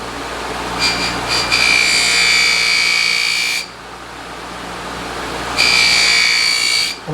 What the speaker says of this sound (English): And it will just pull that little bit of surface rust right off of there.